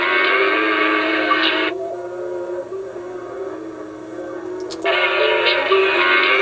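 A magnetic tape Mobius strip plays back continuously with a loud, dense buzzing output that drops to a quieter hum for about three seconds, then returns at full level.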